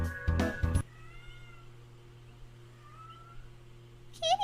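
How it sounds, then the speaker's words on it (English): A cat gives a short, fairly loud meow near the start, followed by a low steady hum and a faint higher cry near the end. "Kitty noise."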